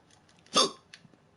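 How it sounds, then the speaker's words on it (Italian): A single sharp hiccup bursts out close and clear from a person during a live stream, a brief loud catch followed by a faint second twitch, otherwise near silence. "Singhiozzi merda."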